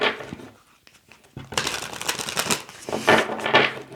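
Tarot cards are shuffled by hand in quick riffling bursts of papery flutter after a brief near-silent pause, close and fairly loud.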